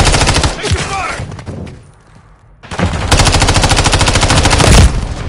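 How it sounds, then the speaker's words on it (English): Heavy automatic gunfire in Call of Duty MW3, loud rapid bursts filling the first second and a half, a brief lull, then another long sustained barrage close up. "Taking effective fire."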